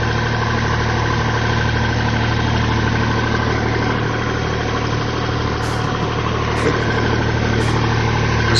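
A tractor engine running steadily while auto-driving between drills in a field, a loud constant low drone with even vibration and no pauses.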